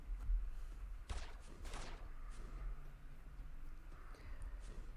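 Explosions in the Shape Hunter mobile shooter, an arcade game with shapes on a black background: two sharp bursts fire within about a second of each other, each one ringing briefly, over a steady low rumble of game sound.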